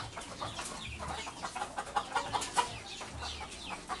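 Chickens cluck softly in scattered bursts, some distance away, over a quiet outdoor background.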